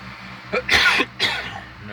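Two sharp, harsh coughs close by, the second following shortly after the first, with faint background hum.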